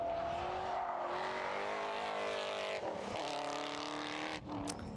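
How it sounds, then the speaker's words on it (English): A Ginetta V8 race car at the Anglesey circuit, its engine holding a loud, sustained roar with rising and falling pitch as it works through gears, a brief dip near the end. "Do love the sound of V8."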